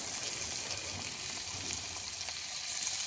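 Egg frying in a wok, giving a steady, soft crackling sizzle that runs evenly throughout at low volume with no voices.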